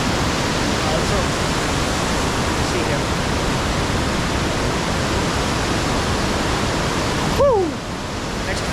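A waterfall near Munnar roars loud and close in a dense, unbroken wash of falling water that dominates throughout, briefly joined near the end by a short rising whistle-like call.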